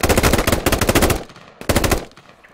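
Automatic rifle fire in the military shooter game Squad, Logar Valley map, long loud rapid bursts followed by a brief pause and another short burst.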